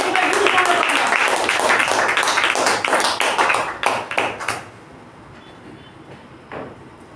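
A Toastmasters club meeting audience applauds a speaker with dense, continuous clapping that stays loud for about four seconds, then fades out to near quiet.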